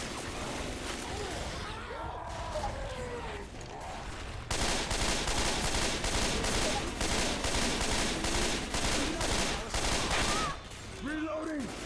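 Sustained rapid gunfire rattles through a zombie shooter game, Left 4 Dead 2, thick and close for several seconds amid game chaos and voices talking over it.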